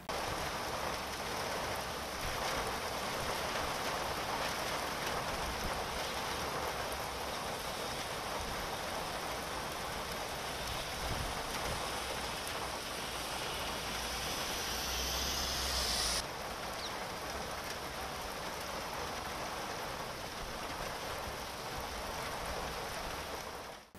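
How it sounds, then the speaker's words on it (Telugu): Torrential rain pours steadily near India Gate and Parliament in Delhi, a dense, loud, continuous hiss without a break, with a low rumble in the middle of the downpour. "ఢిల్లీలోని ఇండియా గేట్, పార్లమెంటు పరిసరాల్లో కుండపోత వర్షం కురిసింది"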